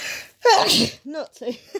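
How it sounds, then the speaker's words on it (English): A person lets out one loud, close sneeze, with a short spoken remark before it and more talking right after. "I did warn you I was going to sneeze."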